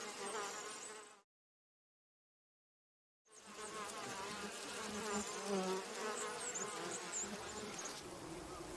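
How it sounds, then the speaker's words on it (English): Japanese honeybees hum steadily around garden hives in southern Honshu, a dense buzzing swarm that cuts out to silence briefly before resuming just as full and close. "A colony of Japanese honeybees has taken over the garden hives."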